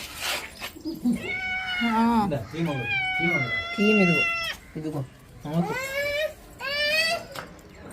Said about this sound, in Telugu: ఇవన్నీ పిల్లులు పిల్లి పిల్లలు తల్లిలు అన్నీ ఉంటాయి